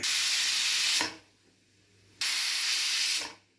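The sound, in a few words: pressure cooker steaming and whistling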